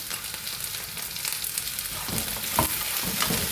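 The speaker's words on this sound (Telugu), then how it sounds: "చూడండి, బంగాళదుంపలు కొంచెం ఫ్రై అయినాయి. ఈ మసాలా వేసుకుందామండి." Potatoes frying in a pan with ground masala sizzle steadily up close, with a few soft stirring scrapes near the end.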